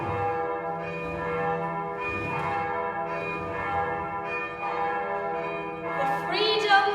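The Freedom Bell, a church bell rung for freedom and Catholic emancipation, tolls in repeated strong strikes about every one to two seconds, each leaving a rich, lingering hum that overlaps the next, with no talk over it.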